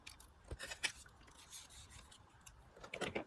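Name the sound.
small fine detail fussy cutting scissors trimming card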